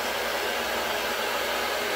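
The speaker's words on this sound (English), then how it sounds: "Notice I'm really not moving the blow dryer." A handheld blow dryer runs steadily on hair, a continuous loud broadband whoosh of air held close and unchanging for the full two seconds, with no talking.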